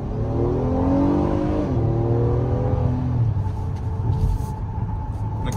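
A 2025 Acura MDX SUV accelerates hard from inside the cabin, its engine note climbing steadily in a loud, continuous rising drone with no talk over it.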